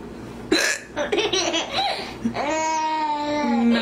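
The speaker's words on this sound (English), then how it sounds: "Mommy has hiccups." A woman hiccups amid bursts of laughter, with a sharp hiccup near the start followed by giggling and a long, sustained laughing voice, close and clear.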